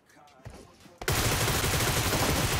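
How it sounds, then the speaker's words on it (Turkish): Gunfire in the video game PUBG starts after a brief quieter lead-in, then erupts into a dense, loud, continuous volley of rapid shots that fills the rest of the clip. "Burada bir tane silah sesi duydum ben."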